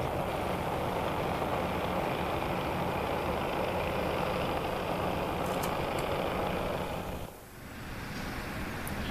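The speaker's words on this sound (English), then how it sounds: "Crompton slides out of the reception siding and into siding 3, where it tangles with the loading gauge." Class 33 'Crompton' diesel locomotive shunting from a reception siding into siding 3, a loud, steady engine drone and rumble that dips briefly near the end before resuming.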